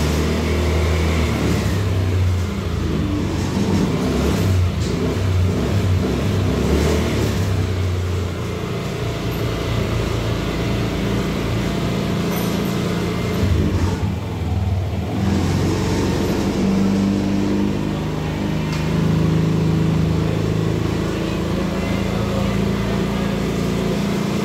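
A Yamaha Lexi scooter engine with a fault, idling at about 1600 RPM, makes a steady low drone with slight fluctuations, close by and continuous in a workshop.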